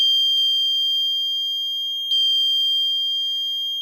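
A high, steady electronic tone sounds alone as a capacitor's voltage decays, clicking at start and again midway, then slowly fades in loudness.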